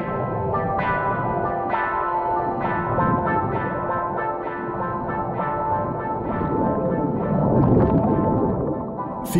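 A small fishing boat's engine holds position against sea currents off Koh Lanta, a loud, steady low rumbling drone with regular knocking pulses throughout.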